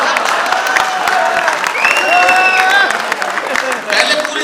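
An audience at a Hindi political-satire comic poetry recital claps and cheers in a steady, lively wash of applause, with voices calling out over it.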